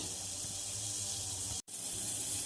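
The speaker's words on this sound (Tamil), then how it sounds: "இப்போ தண்ணி நல்லா பொங்க பொங்க கொதிக்குது" Water boils hard in a pot on a gas stove while dough is being made for sweet coconut kozhukattai, a steady, close bubbling hiss with one brief drop-out partway through.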